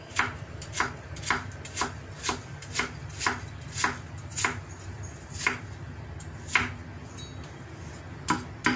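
Potatoes and corned beef being chopped into small pieces on a board, with a steady series of sharp knife knocks in a regular rhythm, close and clear, with no talking.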